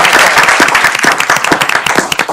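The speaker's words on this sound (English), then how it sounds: "Let's give all these wonderful leaders a great applause." Loud, close applause from an audience at a state board meeting honoring school leaders, a brisk burst of many hands clapping with sharp individual claps standing out.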